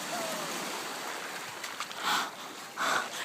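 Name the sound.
ocean waves breaking on a beach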